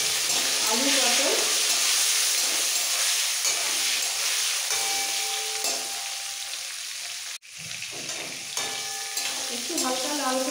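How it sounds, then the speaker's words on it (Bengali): Potato and pointed gourd pieces fry with turmeric in a pan for a katla fish curry, a bright, close hissing sizzle throughout with a brief break near the end and a voice heard briefly. "এইটা খুব ভালো করে ভেজে নেব আলু পটল।"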